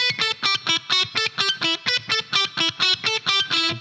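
Distorted electric guitar picks a fast, even run of separate notes in a steady rhythm, loud and up front with no voices.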